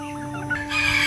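A rooster clucks and crows nearby, a short rising call over steady background hum.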